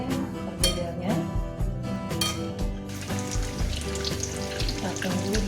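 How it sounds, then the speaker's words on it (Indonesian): Hot oil sizzles and crackles steadily as potato fritters fry, with occasional clinks of utensils, close and continuous throughout. "setelah minyaknya panas, kita goreng perkedelnya."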